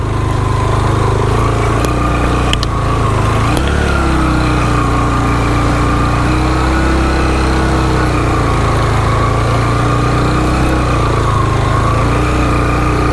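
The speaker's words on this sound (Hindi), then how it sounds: "इन 2 मिनटों में मैंने बाइक को बंद नहीं किया, बाइक स्टार्ट ही था" A motorbike left running while parked on a rough mountain off-road track to Ratti Gali Lake in the Neelum Valley, Azad Kashmir, idles with a loud, steady, close-up engine drone, a few faint clicks near the start.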